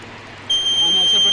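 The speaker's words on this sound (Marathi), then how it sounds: "सायरन जसं पाणी टँकमध्ये भरेल तसं हे बझर वाजत जाईल।" An electronic buzzer on a water level indicator circuit switches on abruptly partway through as a tank fills, then holds a loud, steady high-pitched tone over a faint hum.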